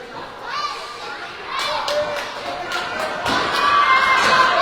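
Crowd of parents cheering and shouting at a 12U youth hockey game in an ice rink, a sustained roar with thuds and claps that swells louder toward the end, with talk mixed in.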